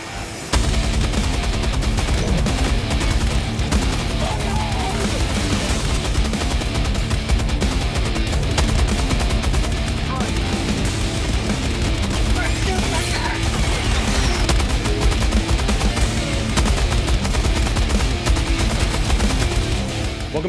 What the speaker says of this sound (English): none are more fun than the big daddy of them all, the MG206 heavy machine gun